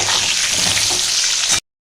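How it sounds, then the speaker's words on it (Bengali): Potato and papaya pieces fry in hot oil with salt and turmeric, giving a close, loud, steady sizzle for about a second and a half before it cuts off. "আমি 1 চামচ লবণ দিয়ে দিচ্ছি, একটু হলুদ দিয়ে আমি একটু লাল লাল করে ভেজে নেব"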